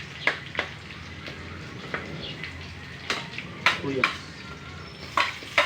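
Garlic (bawang) sautés toward golden brown for chicken curry, a continuous close sizzle broken by sharp scraping stir strokes and utensil clinks, with a brief voice in the background.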